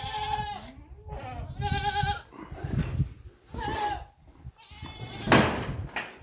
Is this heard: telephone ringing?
no